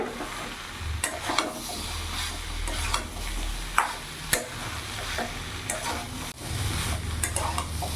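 Young jackfruit curry is stir-fried in a pan over a gas flame, with a continuous sizzle and the scrape and clatter of a spatula stirring against the pan.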